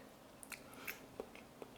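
Crispy skillet home fries are bitten and chewed close up, with a few small crunches spaced over a couple of seconds.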